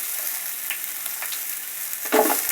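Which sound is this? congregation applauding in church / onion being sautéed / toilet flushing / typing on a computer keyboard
onion being sautéed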